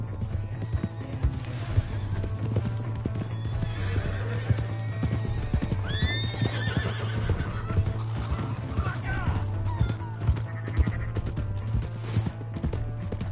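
Horse in the Red Dead Redemption 2 video game, loud close hooves clip-clopping at a fast gallop with repeated whinnies and neighs, over a constant low rumble and some game background noise.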